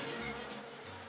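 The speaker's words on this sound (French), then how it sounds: "Depuis 2 ans, un peu à l'écart des chambres, des abeilles butinent." Honeybees buzz steadily around their hives in a beekeeping spot set apart from the guest rooms at Disneyland, a soft continuous drone with no voices.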